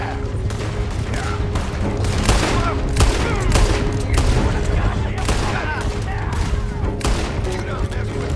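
Rapid gunfire from a stagecoach robbery shootout in Red Dead Redemption 2, with dense overlapping rifle and revolver shots cracking continuously and loudly throughout, mixed with game sounds.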